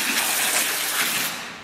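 Running water gushing steadily over salted cabbage being rinsed for kimchi, a loud, close, continuous rush that eases off slightly at the end.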